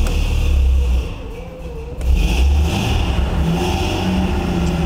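A 1956 Mercedes-Benz 300SL Gullwing with fuel injection runs with a loud, steady engine note close by, briefly dipping before picking up again and holding an even idle-to-rev rumble throughout.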